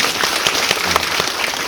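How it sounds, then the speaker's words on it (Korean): An audience at a Korean film screening and director Q&A gives a brief, steady round of applause, a dense close patter of many hands clapping without speech. "박수 한번 여러분"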